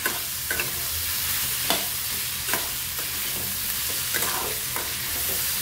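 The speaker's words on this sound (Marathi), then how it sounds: "एक साथ सर्व भाजून घेऊया आपण।" Cashews sizzling softly in a dry pan while being stirred, with steady crackling and intermittent scraping strokes of a spoon.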